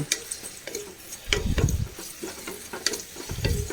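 Onions frying in a pan give a gentle sizzle, broken by a few spoon stirs and light scraping, with no voices.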